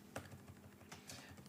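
Keys clatter on a computer keyboard as a name is typed into CAD software, a few quiet irregular taps close by with no voices.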